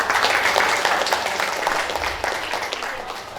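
Audience at an Indonesian event applauding during a souvenir vest presentation, a brief burst of scattered clapping that gradually thins out.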